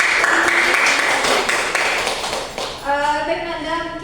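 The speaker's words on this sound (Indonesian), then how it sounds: "Bagus sekali. Tepuk tangan." A classroom of students claps hands in a loose burst of taps during a lesson, fading after a few seconds as a voice begins speaking over it.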